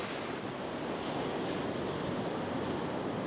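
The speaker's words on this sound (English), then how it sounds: "I'm waiting for this wave to dissipate a little bit" Ocean surf breaking on a beach where someone is fishing with beach worm baits, a steady, loud wash of crashing waves and hiss with wind buffeting the microphone and no other sounds.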